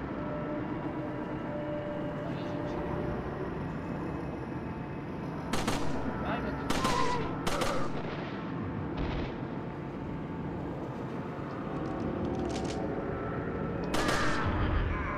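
Scattered gunshots crack out in the PS2 version of Resident Evil 4 running on Xbox, a handful of sharp loud reports spaced irregularly over a steady low game ambience.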